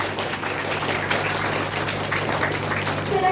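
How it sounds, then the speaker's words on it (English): Kindergarten children at a school assembly clap for themselves, a dense, steady patter of many small hands that stays even and moderately loud from start to finish. "Clap for yourself."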